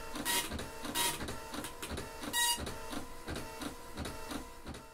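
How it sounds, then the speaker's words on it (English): A ZX Spectrum printer prints a screen dump, giving a rhythmic mechanical chatter with repeated bright bursts roughly every second over a steady electrical hum, close and moderately loud with no voices. "I can dump the thing out to printer."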